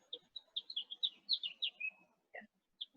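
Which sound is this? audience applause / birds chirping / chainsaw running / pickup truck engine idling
birds chirping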